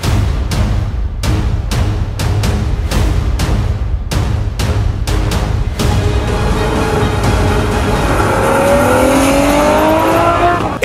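A Ferrari 812 Superfast with 800 hp roars loudly and close as it accelerates hard, its engine note broken by a rapid run of upshifts before settling into one long, sustained climb in revs.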